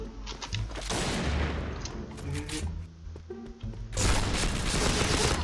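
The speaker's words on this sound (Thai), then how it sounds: "ไอเราก็จะเอาพกยิงเลย" Pistol gunfire in the online shooter Point Blank, a dense continuous stream of loud shots and impacts with a brief lull before heavy firing resumes.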